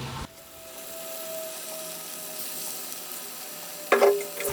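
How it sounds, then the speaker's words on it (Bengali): Chicken pieces are stirred into a spiced masala in a pan for chicken do pyaza, a steady close sizzle running throughout, then a sharp clatter of scraping near the end. "চিকেন এবং মশলাটা ভালো মতো মিশিয়ে নেব।"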